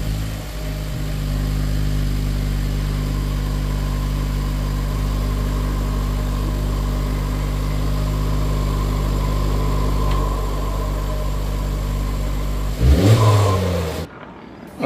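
A Honda FL5 Type R fitted with a PRL titanium inlet runs loud and close, its steady engine note holding throughout before a short burst of revving and handling noise near the end.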